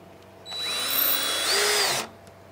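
A power drill bores into wood while a bunk bed is being built, whirring up sharply, running steady and close for about a second and a half, then cutting off abruptly.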